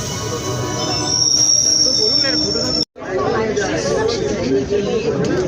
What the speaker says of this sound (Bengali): লোকালটি এখন শেওড়াফুলি স্টেশনে প্রবেশ করছে।